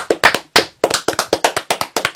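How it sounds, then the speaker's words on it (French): Sharp, close handclaps from a small group on a French quiz show, about a dozen distinct loud claps in a quick, slightly uneven rhythm, with no talking. "Limitons-nous à applaudir"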